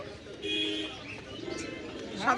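Pigeons at the Mirpur-1 pigeon market in Bangladesh make soft, repeated coos and chirps nearby, mixed with people talking in the market.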